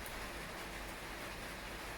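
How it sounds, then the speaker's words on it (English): Faint, steady rain hisses softly and evenly in an African village, with no voices or other sounds. "oh my god, it's raining again"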